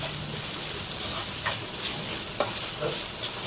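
Onions frying with salt and turmeric in a pan, a steady close sizzle with soft, periodic scraping taps of stirring, no talk.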